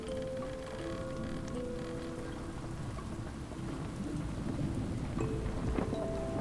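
Continuous soft rain patter of a mild shower in the video game Stranded Deep, with scattered droplet ticks, steady and moderately quiet throughout, no voices.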